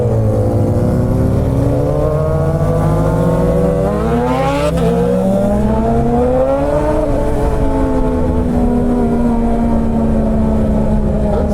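A rebuilt Suzuki GSX-R sport motorcycle, once a crash bike, rides with its engine loud and close, rising and falling through the revs in smooth sweeps under steady wind noise.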